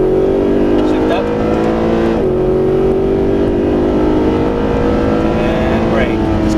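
A Mercedes SLS AMG is driven hard on a race track, its engine roaring loud and steady as it accelerates, with a brief dip at an upshift partway through and the drone continuing close and strong.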